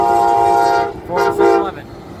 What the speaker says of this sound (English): Here's an Amtrak.